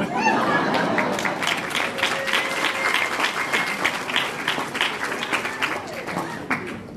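An audience applauds at a skeptics' talk, dense clapping that stays steady and gradually eases off over several seconds.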